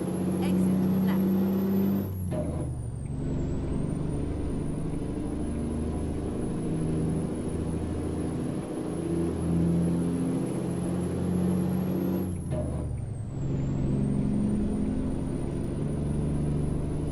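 Kenworth twin steer truck hauling a heavy load in American Truck Simulator, a steady low engine drone with high whine, dipping briefly twice as if shifting gears, continuous and close throughout.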